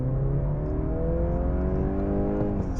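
A 2022 Mercedes-Benz C300 small luxury sedan accelerating, its engine note climbing steadily in pitch with rising harmonics over a constant road and tire roar, heard from inside the cabin with no talking.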